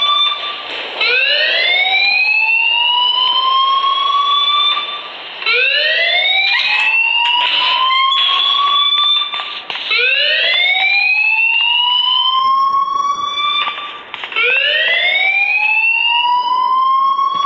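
A fire alarm sounds in the Life Is Strange video game on Android: a loud electronic rising whoop that repeats about every four seconds and carries on steadily with no talk.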